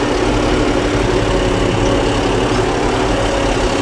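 A tractor engine runs for the first time after a new lift-control system was fitted, a loud, close, steady rumble that holds an even level throughout with no talk over it.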